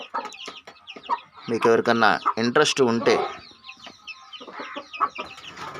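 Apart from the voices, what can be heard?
chickens clucking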